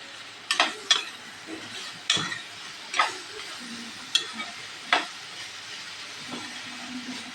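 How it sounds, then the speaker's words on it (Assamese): Pork frying in oil is stirred with a spatula, sharp scraping strikes against the pan recurring about once a second over a quiet, low sizzle, close and without speech. "এতিয়া আকৌ লৰাই দিছোঁ।"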